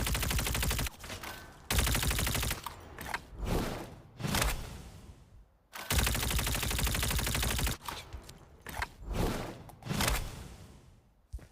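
A Type 19 gun fires in a video game in loud, sustained bursts of rapid automatic fire, broken by short pauses and shorter clusters of shots.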